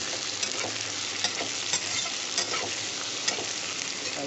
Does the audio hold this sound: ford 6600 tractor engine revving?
no